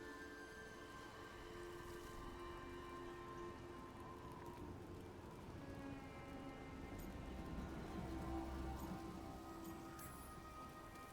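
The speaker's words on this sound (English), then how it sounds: "Drip rain, not mist rain." Steady dripping rain patters on surfaces in a Dragon Age: The Veilguard garden, with constant drops and splashes across the whole stretch, alone with no talk.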